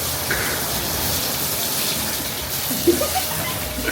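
Water from a hose pipe gushes steadily into a baby sea turtle tank, a constant mid-level rushing hiss with a couple of small splashes toward the end.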